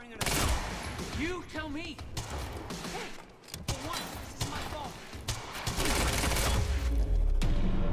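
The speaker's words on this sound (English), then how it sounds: "I have a machine gun." Rapid machine gun bursts ring out during a shootout in the video game Quantum Break, repeated volleys mixed with game music while a player talks over the action.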